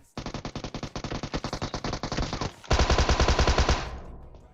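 Rapid automatic fire from a UMP submachine gun in PUBG Mobile rattles out in a steady, evenly spaced burst, then continues with a louder, heavier stretch of shots before tailing off, loud and close.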